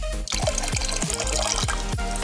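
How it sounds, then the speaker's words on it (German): A splash of cold water is poured into a warm sous vide water bath, giving a steady liquid trickle with rhythmic dripping plops repeating roughly every quarter second, close and fairly loud. "durch das ich jetzt einfach einen Schluck kaltes Wasser zum Beispiel rein tue"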